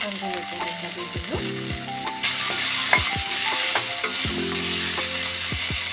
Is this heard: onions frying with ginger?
yes